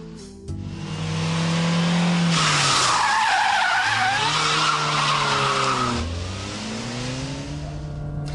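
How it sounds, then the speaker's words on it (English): A car doing a handbrake turn, rear wheels locked, slides round with a loud sustained tire skid over a revving engine that drops and climbs again as it powers out. "yank the handbrake. The rear wheels will lock as the back end slides round"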